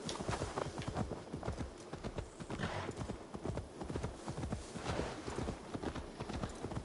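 Horse hooves clip-clop steadily in a video game as a ridden horse travels, a dense, continuous rhythmic patter of hoofbeats at close range with a brief whinny, no talking over it.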